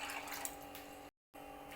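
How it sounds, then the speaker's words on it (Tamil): Water is poured into a pot to boil pasta, giving a steady, close rushing flow with a brief cut of silence partway through and no talking. "தேவையான அளவு தண்ணி ஊற்றிக்கலாம்."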